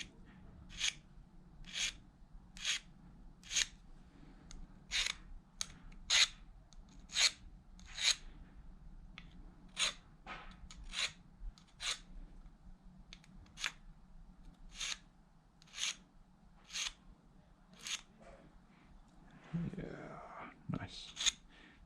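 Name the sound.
rubbing rust off a vintage marking gauge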